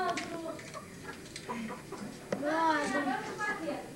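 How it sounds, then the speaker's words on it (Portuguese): A rooster clucks close by in a family home in Rio de Janeiro in the 1980s, with short harmonic calls rising toward the end while voices, including a child, talk around it. "É um galinho! Dá um jeito. É galinho."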